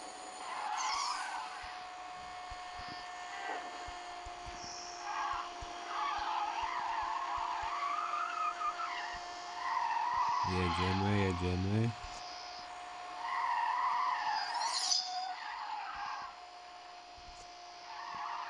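A car in the video game Need for Speed No Limits drifts sideways across the finish line: a steady engine drone with skidding tyres, continuous throughout while someone talks over it.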